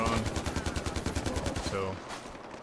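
Rapid sniper and automatic gunfire from the video game Far Cry 4, loud close bursts of repeated shots in quick rhythm for about two seconds, then tapering into softer ambient game noise.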